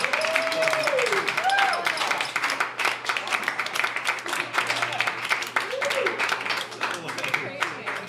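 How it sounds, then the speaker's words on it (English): An audience at a mentalism show applauds participants with sharp, uneven clapping of moderate size, with a speaker's voice and some whoops over it. "Big round of applause for everyone."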